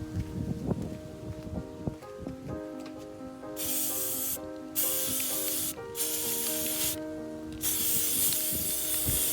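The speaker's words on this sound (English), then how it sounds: "So I headed outside and I'm spraying them inside this box." Spray paint hisses in bursts as Dollar Tree items are coated inside a box outdoors, with the can's rattle and clicks first, then several long, steady sprays separated by brief pauses.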